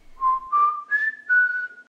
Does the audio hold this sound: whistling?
yes